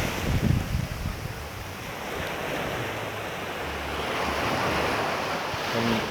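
Waves wash onto Stone Beach on the west coast of Barbados, a steady broad surf hiss with swelling rushes and light wind buffeting the microphone, no voices.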